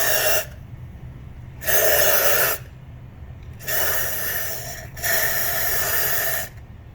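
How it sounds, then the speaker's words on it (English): Four bursts of pressurized cleaner spray hiss into an engine cylinder of a BMW E90 335i during intake valve cleaning, each lasting about a second, separated by short pauses over a low steady hum. "you take the spray bottle and you spray inside the cylinder"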